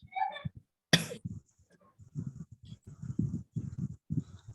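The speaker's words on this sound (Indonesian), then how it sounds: "batuk saya" A single sharp cough bursts out once in a quiet indoor meeting room, followed by soft, scattered murmuring voices.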